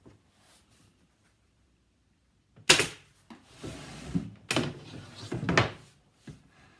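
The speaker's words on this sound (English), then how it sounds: "And I'm stapling it through the thickness of the foam." A staple gun driving staples through foam on a fabric sound panel: after a quiet stretch, a few sharp, loud close-up clacks, spaced a second or two apart with rustling handling noise in between.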